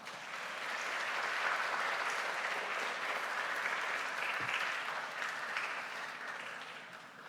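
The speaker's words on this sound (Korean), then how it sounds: "이제 윤재덕 소장님 말씀 전하실 때 동안의 따뜻한 박수로 환영하도록 하겠습니다." A church congregation at a young adults' worship service claps warmly to welcome a speaker, a fairly soft, even wash of many hands that swells slightly and holds for several seconds before easing off.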